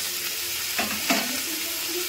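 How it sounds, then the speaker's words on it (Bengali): Cumin, coriander, dried chilli, turmeric and ginger fry in hot oil and ghee with a steady, close sizzle, broken by two brief bursts of louder spitting as the spices hit the pan. "এবার তেলের মধ্যে জিরে, ধনে, শুকনো লঙ্কা, হলুদ আর আদা দিয়ে দেব,"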